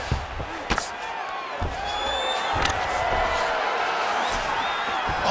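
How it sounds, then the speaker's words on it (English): Arena crowd at a UFC Fight Night heavyweight bout roars and cheers steadily, a sustained wash of noise with a few sharp thuds and whoops, rising slightly as fighters stand up after grappling on the ground. "big pop from the crowd as they get back to their feet"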